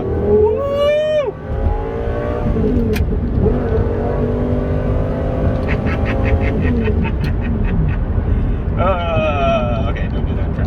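A Lamborghini sports car accelerates while driving, its engine note rising through gears in sweeping harmonic climbs, loud and close from inside the cabin, with a driver's voice and exclamations mixed in.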